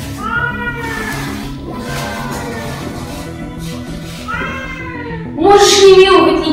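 A pregnant cat meows repeatedly in drawn-out, insistent cries, close and loud, with a sharper, louder yowl near the end; a few soft breathy sounds are heard between calls.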